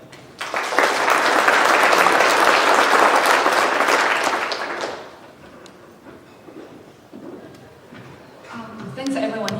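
Audience applause welcoming a speaker at a 2015 Asian-American cooperation forum in Atlanta: a dense, loud burst of clapping that swells for about four seconds, then fades into quieter room noise and a voice.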